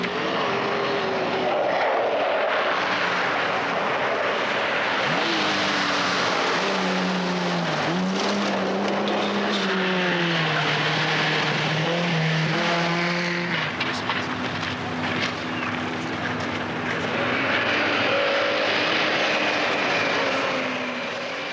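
A 1980 Daihatsu Charade with a 1-litre three-cylinder engine and five-speed gearbox accelerates hard on a rally course, its buzzy engine note rising and shifting through gears, loud and continuous with no talk.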